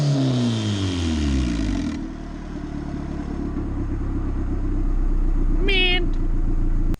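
Turbocharged EG Honda Civic engine running at a steady idle, a loud, continuous low rumble after an initial rising rev, with a brief high-pitched squeal near the end.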